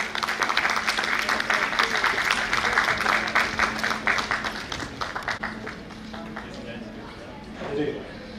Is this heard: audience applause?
yes